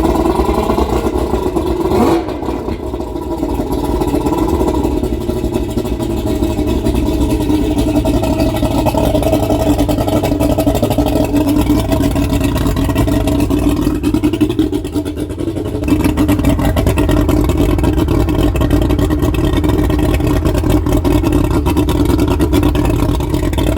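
A 1992 Mercury Blackmax outboard boat engine running loud and close at high revs, a continuous heavy drone with slight dips in pitch and a few clattering knocks throughout.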